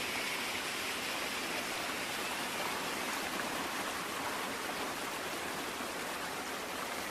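A steady, loud rush of falling water from a waterfall behind a tree, a dense continuous hiss with no breaks and no talk.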